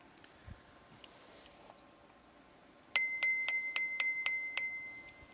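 A handlebar bicycle bell mounted upside down on an Engwe L16 16-inch 48V electric bike rings eight times in quick, even succession, bright and close, following a quieter stretch of faint room noise.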